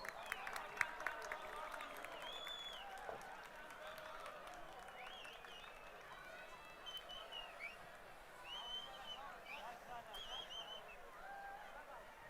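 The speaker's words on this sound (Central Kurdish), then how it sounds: "ئۆرمۆز گروپ چەپڵەکانتان بۆ ئۆرمۆز گروپ" A festival crowd applauds a dance group at an international cultural festival, sustained clapping and cheering holding steady throughout with a few sharper claps near the start and chirpy voices scattered on top.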